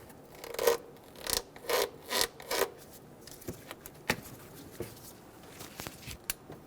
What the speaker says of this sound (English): Remove the vacuum hose.